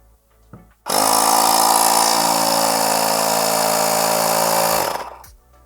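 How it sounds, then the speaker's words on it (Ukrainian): An Osram OTIR2000 motor compressor starts abruptly and runs with a loud, steady buzzing rattle while pumping air for about four seconds, then winds down and stops on its own. "До потрібного значення компресор накачав і автоматично вимкнувся."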